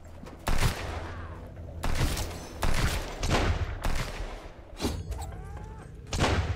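Heavy, booming gunshots in the survival game Sunkenland, fired one at a time at irregular intervals about a second apart, loud and close with echoing tails.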